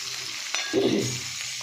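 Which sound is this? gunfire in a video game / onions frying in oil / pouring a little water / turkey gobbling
onions frying in oil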